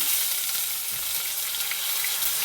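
Washed curry leaves dropped into hot oil for a spinach thoran give a loud, continuous crackling sizzle close up, with no voices.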